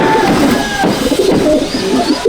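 Madrasi pigeons coo in a loft, rolling throaty calls that overlap and repeat close by, loud and continuous with a few brief rustles.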